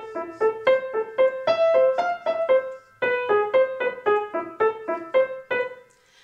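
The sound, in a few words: piano playing tune of The Wild Horseman with right hand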